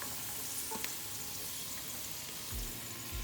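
Dry fruits fry in a pan with a steady crackling sizzle, close and fairly quiet, with occasional stirring scrapes and no talking.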